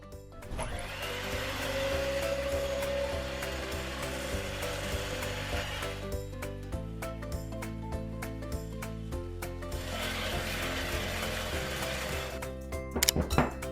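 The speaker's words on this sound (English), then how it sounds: "We're going to whisk our heavy cream until it has these nice solid peaks" An electric mixer hums and rattles steadily as it whisks heavy cream to stiff peaks, its motor tone shifting as the beaters move through the thickening cream, with a few clatters near the end.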